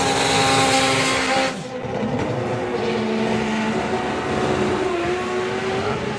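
A doorslammer drag racing car at a Friday drag racing meet roars loud and sustained, its engine note dropping and rising as the driver lifts off and gets back on the throttle a couple of times.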